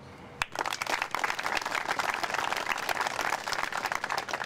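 Audience applause at a military groundbreaking ceremony, a single sharp clap followed by a swell of dense, sustained clapping from a large crowd, loud and even to the end.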